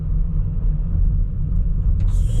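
A car rolls steadily along a town street in Mirny, its continuous low road rumble and engine drone filling the whole stretch, with a brief higher hiss near the end.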